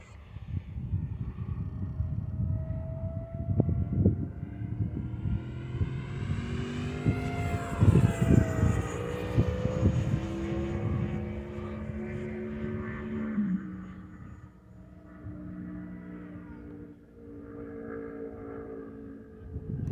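An FMS Futura 64mm electric ducted fan RC jet fitted with a 5280 RC afterburner kit flies past, a rising, whining whoosh that swells in the middle and then fades off into the distance.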